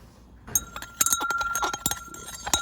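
Glass rod or spoon clinking repeatedly against a glass beaker while stirring a copper reaction that has turned reddish brown, a quick irregular series of close, bright taps alone.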